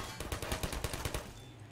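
Half-Life 2 gunfire, a quick burst of about a dozen rapid automatic shots in even rhythm, loud and close, stopping abruptly.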